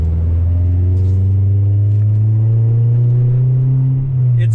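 A 1999 Acura Integra DC4 engine revs through a new exhaust, a loud, deep, close drone that climbs smoothly in pitch and holds high before easing slightly, with a touch of rasp.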